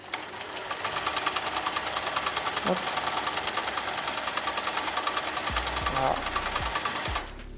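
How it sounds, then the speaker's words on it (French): A Janome Combi 10, a combined sewing machine and overlocker, runs in a fast, steady mechanical chatter of stitching for several seconds, then stops, with a few soft knocks and a brief spoken word near the end. "On a d'un côté une machine à coudre, et de l'autre une surjeteuse."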